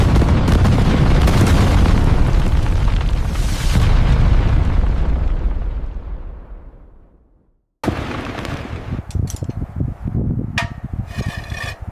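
A rock-blasting explosion on a mountain cliff during highway construction: a loud, sustained broadband roar of breaking rock that slowly fades to silence, then a second burst of rumbling debris with sharp cracks and rattles.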